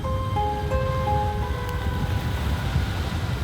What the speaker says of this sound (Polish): Nie, to tylko silny wiatr.